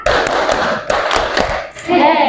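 A classroom of students claps together during an ice-breaking clap game, producing a series of sharp, close hand claps in a loose rhythm with thuds and scattered voices around them.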